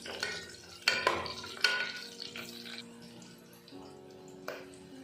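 A spoon stirs sprouted horse gram into fried onions in a pan for a sambar, giving a few scraping clinks against the metal, close and fairly quiet, with a soft sizzle underneath.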